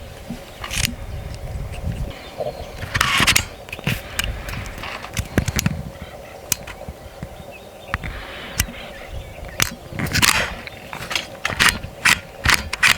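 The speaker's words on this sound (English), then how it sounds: "We'll hit our release catch up on the top, start to pull it back, and at the same time, flip it over to semi." Mechanical clicks and ratcheting from the bolt of an AEA SF .30 caliber air rifle being pulled back and switched to semi-auto, a series of sharp, close metallic snaps with quieter rattling between them.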